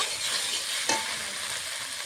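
Small fish frying in a pan for a Bengali chorchori, giving a dense, even hiss with one brief clink or scrape partway through, no talking.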